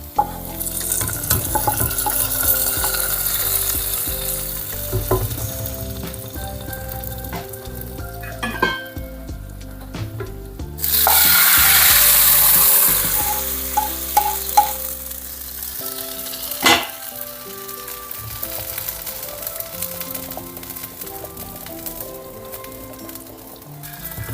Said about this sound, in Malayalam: ഇനി നമ്മൾ ഇത് നമ്മുടെ കറിയിലോട്ട് ചേർത്ത് കൊടുക്കണം